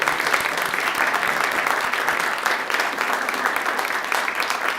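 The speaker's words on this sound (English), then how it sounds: "let's give a round of applause to all of our judges again" Audience applause for poetry recitation judges at a high school competition, a steady wash of many hands clapping with no voices.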